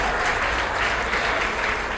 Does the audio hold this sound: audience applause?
yes